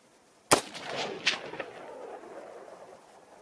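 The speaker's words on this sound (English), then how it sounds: "Did y'all see the shot?" A single 6.5 Grendel rifle shot firing a 100 grain Vmax bullet at rockchucks outdoors, one sharp distant crack followed by a rolling echo that fades out, with no talk.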